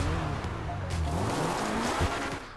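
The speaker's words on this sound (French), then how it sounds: "c'est tout simplement le bruit du moteur" Pegassi Reaper supercar in Grand Theft Auto V revving loudly, with rising and falling engine tones, a sharp throttle blip near the end and a tire-squeal edge, close and alone without talk.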